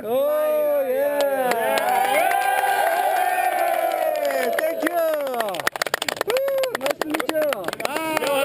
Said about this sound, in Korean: 포위뿐만 아니라 박수와 환호성까지 터져 나옵니다.